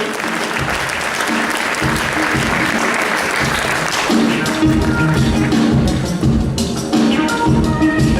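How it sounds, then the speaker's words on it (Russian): Sustained applause from a crowd at a beauty pageant awards ceremony, steady and loud for the whole stretch, with dense clapping that swells slightly toward the end. "Под ваши аплодисменты"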